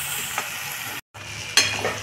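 Eggplant, flat beans and potato fry in a pan with a steady close sizzle, briefly cut by a short gap, then resuming with a sharper burst of crackling as the vegetables are stirred.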